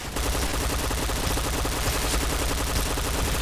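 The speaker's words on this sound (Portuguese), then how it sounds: "Olha a quantidade de tiro que tem a P90" A P90 submachine gun fires continuously in a Point Blank deathmatch on the Desert Camp map, a dense, rapid, unbroken rattle of loud shots lasting the whole stretch with no talking over it.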